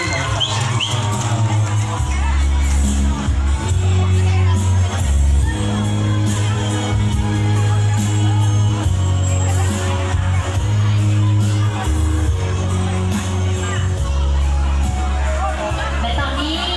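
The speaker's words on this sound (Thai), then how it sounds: "ขอเสียงปรบมือให้น้องๆนักสาวหมายเลขอีกครั้งหนึ่ง" Audience at a Hmong New Year beauty pageant in Vientiane cheering and clapping, a loud dense crowd roar with shouts and whoops under amplified music and an announcer's voice, sustained throughout.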